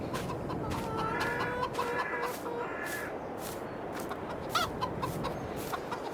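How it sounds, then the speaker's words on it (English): Chickens cluck softly in short, scattered bursts over a constant low background hiss, in Farming Simulator 22. "Chickens."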